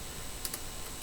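A few light keystrokes tap on a computer keyboard while a command is entered in an Ubuntu terminal, quick soft clicks close by and otherwise quiet.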